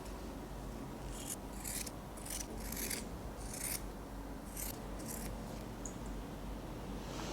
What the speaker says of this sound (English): I will cut away this fabric a little